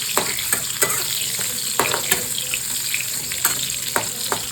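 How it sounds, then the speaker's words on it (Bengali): Mango pieces fry in a kadai with a mustard seed tempering, a steady hot sizzle broken by sharp pops and spatters, close and loud, with no voices. "এখানে কড়াইতে সর্ষে ফোড়ন দিয়ে আমটাকে একটু ভেজে নেব"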